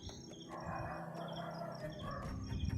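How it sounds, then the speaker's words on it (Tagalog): A dog barks somewhere outdoors, sounding moderately far off and drawing nearer, with scattered yelps over a low rumbling background and faint insect-like noise. "may papalapit na busis ng aso"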